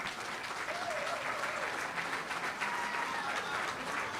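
A large audience at a DeKalb County, Georgia event breaks into sustained, dense applause with crowd noise mixed in, steady and enveloping from start to finish, with faint voices underneath.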